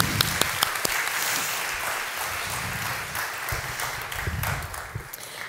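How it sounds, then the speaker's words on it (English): Warm audience applause following a conference talk on augmented reality, many hands clapping steadily with a few sharp nearby claps standing out, tapering slightly toward the end. "Please give them a very warm applause."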